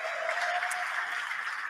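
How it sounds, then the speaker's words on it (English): Steady applause from a talent show audience, a dense wash of clapping that holds at an even level throughout with no voices over it. "let's give these gentlemen another round of applause"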